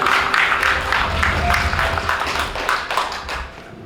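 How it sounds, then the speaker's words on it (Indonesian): Guests clapping together at a wedding ceremony, a steady patter of many hands of even loudness that runs for several seconds with no other sound over it. "Mari kita beri tepuk tangan."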